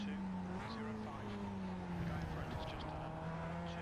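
A Global MX-5 race car in the iRacing sim at Okayama drones with a steady engine note that shifts pitch, the tires briefly losing grip as it nearly spins, over a continuous close mechanical hum.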